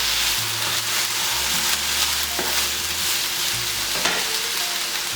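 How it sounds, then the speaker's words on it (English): Garlic powder and seasoned potatoes fry in a pan for chile, giving a loud, steady sizzle with occasional stirring scrapes and no talking. "Isn't that sizzle, boy?"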